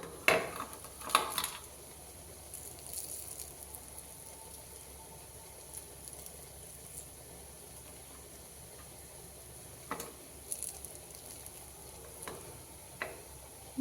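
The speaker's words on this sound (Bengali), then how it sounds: "জলটা কমিয়ে হালকা হালকা আঁচে ভাজতে হবে, যাতে ভিতর থেকে সিদ্ধ হয় পকোড়াগুলো" Cabbage pakoras fry gently in oil over low heat, giving a faint, steady sizzle with a few louder clatters of a utensil against the pan near the start and again toward the end.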